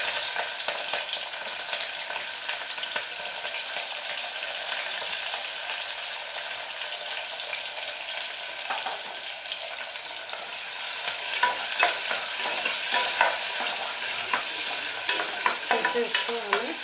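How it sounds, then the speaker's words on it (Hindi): Green chilli and onion fry in ghee for methi pulao, a bright, close, crackling sizzle with frequent spoon-stirring scrapes that grows slightly louder partway through, with no speech over it. "अच्छे से हमें फ्राई करना है। थोड़ा सा ब्राउन होने देना है इसको।"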